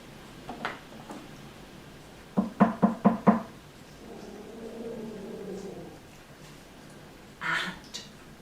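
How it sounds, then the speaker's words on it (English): A door in a fairy-tale cottage gets five quick, sharp knocks in an even rhythm, close and clear against a quiet background, with no talking during the knocks. "she knocked on the door."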